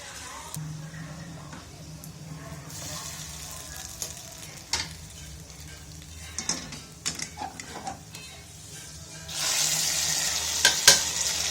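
Ven pongal being stirred after turmeric goes in, a low sizzle under clattering ladle scrapes and taps against the pot, with a louder hissing burst near the end, close by, with no voices.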